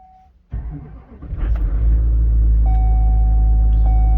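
A diesel truck engine cold starting on a cold morning: a short crank, then the engine catches and settles into a loud, deep, steady idle rumble with a thin whine over it.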